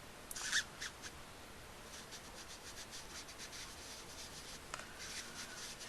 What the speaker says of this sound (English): I'm just going to gently rub this in a circular motion to give myself that really nice glow